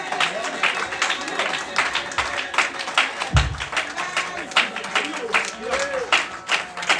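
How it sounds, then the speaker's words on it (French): A church congregation claps during a lively French-language service, with scattered, uneven clapping running under continuous speech and background noise. "Gloire à Dieu, on applaudit mon Dieu."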